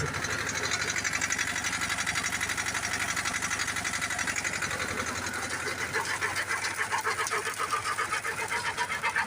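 A loud shredder with a conveyor runs continuously under load with a rapid, rattling chop and a grinding mechanical whine, steady and close throughout.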